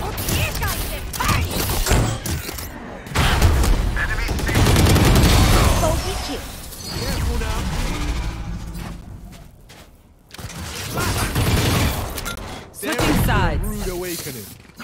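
Bursts of rapid gunfire from the video game Valorant during a Spike Rush match, loud and repeated in several volleys, with players shouting and talking over the shots.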